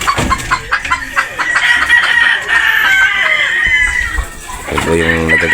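Sweater Boston gamefowl pullets at a game farm in Batangas, with close, loud clucking and a crowing call in the flock, repeated chatter over background noise, and someone talking briefly.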